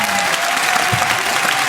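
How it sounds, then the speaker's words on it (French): An audience at the Olympia theatre in Paris applauds during a televised show, a loud dense wall of clapping that holds steady throughout. "C'est Jacques Ramade que je vous demande d'applaudir."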